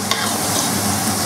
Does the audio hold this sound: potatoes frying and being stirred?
yes